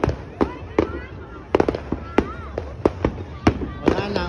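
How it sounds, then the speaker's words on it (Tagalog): New Year fireworks over Karon Beach in Phuket, Thailand, popping in sharp irregular bangs at mid distance amid a crowd's constant chatter and cheering. "Grabe, dami talagang nag-abang ng fireworks dito sa Caron Beach"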